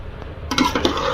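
Chicken biryani being stirred in a pot, a short scrape and clink of a spoon against metal after a quiet moment.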